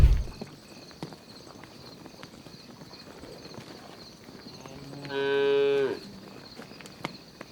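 A single cow lets out one clear, drawn-out moo about a second long, preceded by quiet farmyard background and a few faint knocks and clops.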